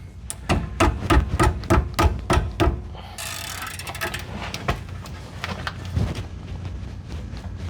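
Ratchet clicking on caliper bolts of a Chevy/GMC van: a run of loud, sharp, evenly spaced clicks, then a mix of uneven clicks and mechanical clatter, close by with no talking.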